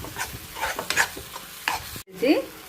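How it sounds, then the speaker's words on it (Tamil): A spatula scrapes and stirs thick jackfruit paste in a pan, with soft sizzling under repeated scraping strokes and a brief silent gap. "இப்படி அடியில் ஒட்டாம இதை வதக்கிட்டுருங்க"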